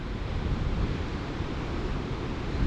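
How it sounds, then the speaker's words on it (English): Storm waves from Storm Ashley pound rocky Scottish shoreline, a steady loud roar of surf and wind with no break, close and dense throughout, no voices. "the roar from the sea when you're standing here is just incredible"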